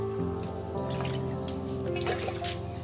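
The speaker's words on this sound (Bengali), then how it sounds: "জলটা ফেলে দিয়ে আর একবার আমি পরিষ্কার করে ধুয়ে নেব।" Water drips and trickles while new potatoes are washed and the water is drained, a close, steady splashing with no talk.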